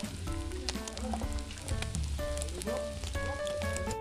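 Fish grilling over charcoal, a steady close sizzle and crackle with scattered pops, running continuously throughout.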